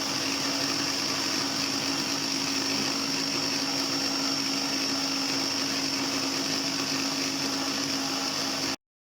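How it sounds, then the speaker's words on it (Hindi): A kitchen grinder blends garlic sauce as oil goes in, a steady loud whirring drone that runs without a break for about nine seconds, close up, then cuts off abruptly. Nobody speaks. "देखिए फिर ग्राइंडर पे लगा देंगे"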